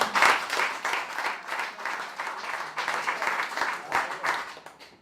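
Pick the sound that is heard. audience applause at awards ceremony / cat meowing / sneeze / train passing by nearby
audience applause at awards ceremony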